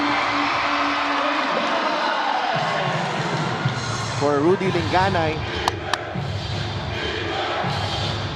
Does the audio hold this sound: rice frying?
no